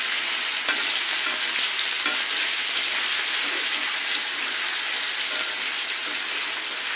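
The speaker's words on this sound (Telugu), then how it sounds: "ఇంకా ఇవి హై ఫ్లేమ్లోనే వేయించుకోండి, లేదంటే ఇది ముద్దగా అయిపోతాయి" Steady, loud sizzle of food frying in a pan over a high flame, with stirring strokes running continuously through the dense hiss and no voices.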